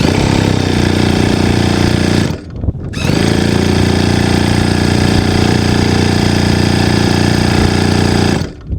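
A model aircraft engine runs at a flying field with a loud, steady, high-pitched buzz. It drops out briefly near the start and again at the very end.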